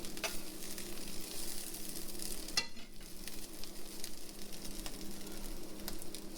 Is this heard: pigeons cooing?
no